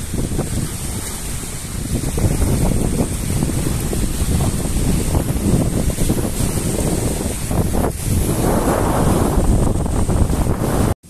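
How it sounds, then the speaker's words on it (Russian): Strong, cold wind blows by a lake, buffeting the microphone with loud, continuous roaring gusts that end abruptly. "Ветер сильный, очень даже вот здесь прям ощущается"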